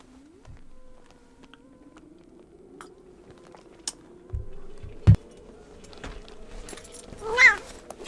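A cat yowls near the end, a short rising wavering meow over quiet room noise, with a few small knocks and clicks earlier.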